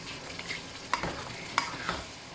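Tomatoes frying with garlic and onion in a pan being mashed and stirred, a soft steady sizzle broken by a few sharp scrapes and taps of the utensil against the pan.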